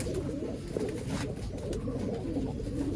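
Pigeons at a pigeon sale coo softly and repeatedly, several birds murmuring close by over a low background rumble.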